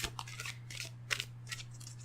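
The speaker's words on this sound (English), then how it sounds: "I'm shuffling my Angel Answers Oracle cards deck from Doreen Virtue and Radley Valentine." An Angel Answers oracle card deck is shuffled by hand in a quiet room, giving several quick papery riffles and soft slaps in short bursts over a steady low hum.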